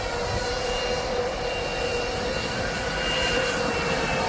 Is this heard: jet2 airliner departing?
yes